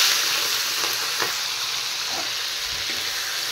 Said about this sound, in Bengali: এবার আমি কিছু চিংড়ি মাছ ভেজে নেব।